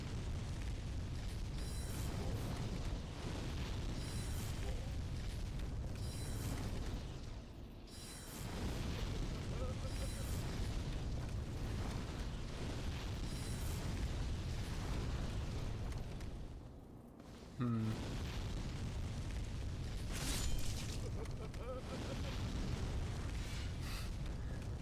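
Booming fireball blasts from a boss in Demon's Souls roar through a dense, loud game soundscape, with heavy rumbling bursts recurring and a brief sharp impact midway; someone talks over it.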